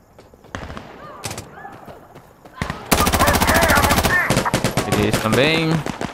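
Loud automatic gunfire in Insurgency Sandstorm, a close, dense stream of rapid shots that starts after quieter moments and carries on for several seconds, with a voice talking in between.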